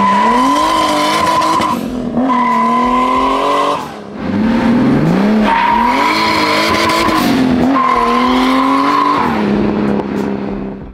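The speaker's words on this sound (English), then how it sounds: "when it comes on boost at a launch like that, it's wiggling" A BMW 2002 Turbo with a swapped E30 engine launches on boost, its loud engine revving in rising and falling surges with squealing tires, close by and without speech.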